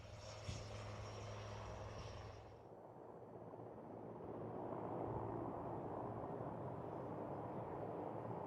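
An aircraft flies in the Aero India 2021 air show flying display, a broad roaring engine rumble that shifts in tone as it passes, sustained and distant-sounding.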